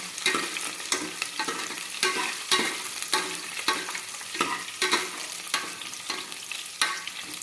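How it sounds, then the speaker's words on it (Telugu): Dried red chillies hit hot oil and are stirred, giving a steady crackling sizzle broken by repeated scraping strokes of a spoon in the pan, close and continuous with no talking. "నెక్స్ట్ ఒట్టి మిరపకాయలు వేయాలి దాంట్లో బాగా కుదుర్చుకోవాలి"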